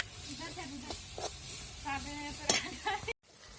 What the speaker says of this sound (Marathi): हा मसाला आपल्याला चांगला तेल सुटेपर्यंत असं परतून घ्यायचा आहे